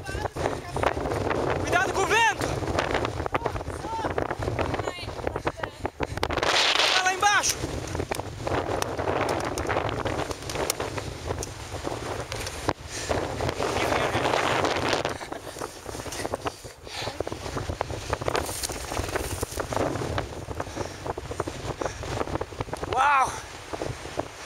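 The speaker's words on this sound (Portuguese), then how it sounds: "Que vento!" Strong wind buffets the microphone in gusty, roaring bursts outdoors on a pioneer trek, with people talking intermittently beneath the blustery noise.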